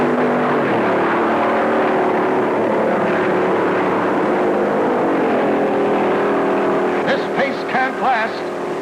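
Big 1956 NASCAR stock cars, including a Chrysler taking the lead, roar past at Darlington in a loud, continuous engine drone with rising and falling pitch, heard through old film sound.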